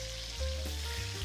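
Pork pieces for a keto pork marsala hit a hot buttered pan, giving a steady close sizzle that swells in volume partway through, with no voices.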